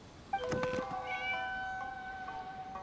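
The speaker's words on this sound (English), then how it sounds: "It was just a cat." A single video game cat meows once, clear and fairly close, followed by a lingering tonal chime fading out over quiet background.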